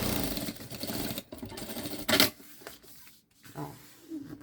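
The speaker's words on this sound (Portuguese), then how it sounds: "E vou rebater uma costura aqui." Sewing machine topstitching a seam on a synthetic backpack lining: a close, steady mechanical whir that runs, pauses, bursts again, then stops, with brief handling noises between runs.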